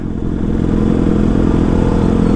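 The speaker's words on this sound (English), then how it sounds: "Just hear that bike, man." A BMW S1000RR sport motorcycle engine rumbles loud and close with a dense, steady low-pitched drone and rattling texture throughout, without a clear rise or fade.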